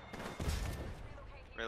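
Peacekeeper shotgun blasts in an Apex Legends firefight, heavy booming reports mixed with chaotic gunfire and a player's voice, loud and close amid the in-game action.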